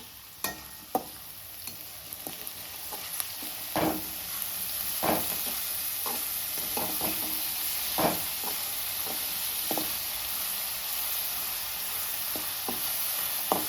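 Onions and egg frying in oil for egg bhurji give a steady sizzle, broken by sharp scrapes and taps of stirring that come every second or so, with no talk.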